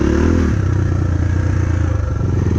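A KAYO TSD 110 enduro motorcycle being ridden close by, its engine loud and buzzing with a steady rhythmic throb, along with some rattling clatter.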